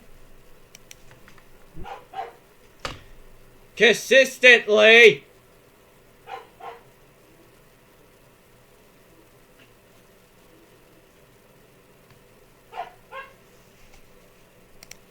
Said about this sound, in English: why does my dog have to bark when I am recording?